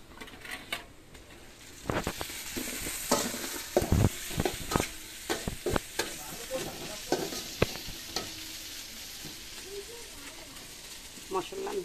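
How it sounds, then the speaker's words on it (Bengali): Ginger-garlic paste frying in a pan for a chicken curry: a steady broadband sizzle broken by sharp clinks and scrapes of a spoon against the pan throughout, with a faint voice now and then. "আমি দিয়ে দিব আদা রসুন বাটা"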